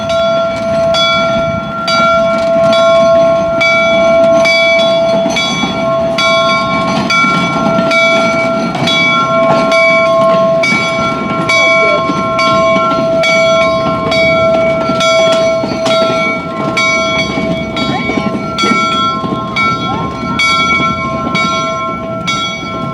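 A train passes close by, its loud rumble and repeated rail clatter running steadily throughout, while a sustained horn or bell tone rings over the top.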